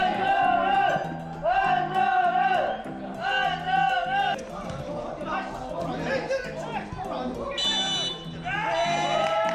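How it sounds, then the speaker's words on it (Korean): A large stadium crowd in a football video game roars and chants in rhythmic, swelling waves after a goal, loud and continuous, with a voice talking over the crowd. "수없이 많은 관중석에서 환호의 목소리가 들립니다"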